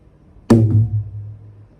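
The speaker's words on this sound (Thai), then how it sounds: "หน้านี้ตีแบบปิดเสียงมันจะเป็นพืช" A single muted stroke on a Thai taphon drum, a short dull thud that dies away quickly and is heard alone.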